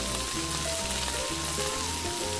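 Coriander leaves frying lightly in a pan for a Bangladeshi bhorta, a steady close sizzle with soft background music.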